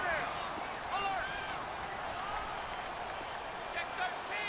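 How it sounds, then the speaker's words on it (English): A stadium crowd roars and cheers in a rainy Madden 19 football game between the Jaguars and Seahawks, a steady wash of noise with a few whistle-like peaks, under continuous commentator talk. "the crowd getting into it as we come up on a big 3rd down"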